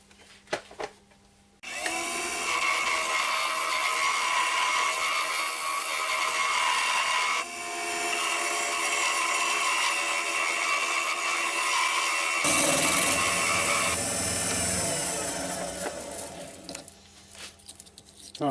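A wood lathe turns a banksia piece with a loud, steady whirring roar and a rough cutting rasp, starting after a brief pause and shifting tone midway before winding down near the end.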